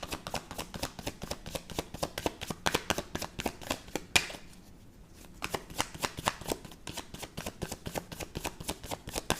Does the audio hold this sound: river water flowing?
no